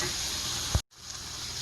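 Peppers and onions sizzle steadily in a pan over medium heat while being stirred, a close, continuous frying hiss broken by one brief clatter and a moment's silence before the sizzle resumes.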